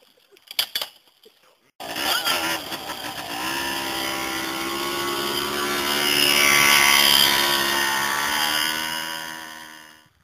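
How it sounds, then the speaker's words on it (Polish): A motorcycle engine fires up after brief clattering and then revs steadily and loudly, pulling away with a sustained mid-pitched drone that rises and gradually fades as it rides off. "Motor, jazda!"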